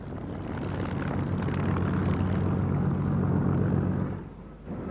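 A Spitfire propeller aircraft drones steadily overhead, a loud continuous engine roar that holds for several seconds before easing slightly near the end.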